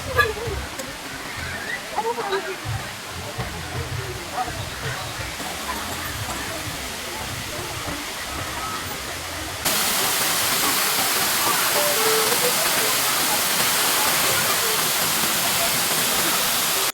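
Thripparappu waterfall roars with rushing water in a broad, continuous hiss that grows louder partway through as the falls come closer. Faint talk is buried under the water at the start.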